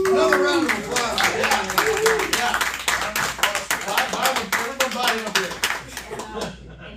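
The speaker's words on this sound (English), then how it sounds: "Another round of applause." Audience applause at a horror film festival panel, a sustained round of close hand clapping with sharp individual claps, with voices talking and cheering over it before it fades out.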